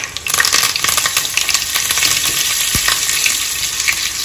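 Curry leaves hit hot oil for a Mumbai-style wada pav tempering, bursting into a loud, close, crackling sizzle that holds steadily, with one sharp metallic tick partway through and no talk.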